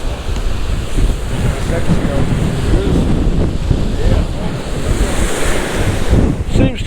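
Strong wind buffeting at the seaside while fishing for cod, with surf washing in the background, loud steady roar against the microphone, no clear talk.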